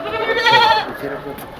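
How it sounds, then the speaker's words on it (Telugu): A goat from a herd of around forty gives a single close, wavering bleat that rises and fades in under a second, with a voice speaking around it. "ఎన్ని మేకలు ఉన్నాయి?"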